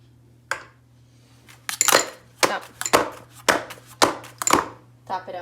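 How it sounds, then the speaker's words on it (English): A cake pan of marble sponge batter is tapped against a counter about seven times in an uneven rhythm. Each knock is sharp, near and metallic, with a faint steady hum underneath. "Tap it out, smooth it out."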